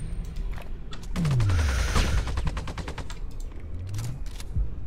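Sniper rifle gunfire in the video game Sniper Ghost Warrior 2: a rapid string of sharp cracking reports with booming low swoops, loud and close, with no talking.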